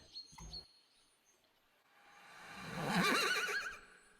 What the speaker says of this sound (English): You hear a horse. A sound like a really loud horse.